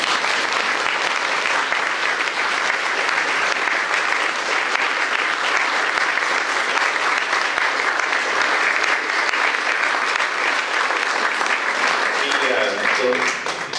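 An audience at a memorial gathering applauds warmly, a dense, sustained clapping that fills the room for over ten seconds and fades slightly at the end.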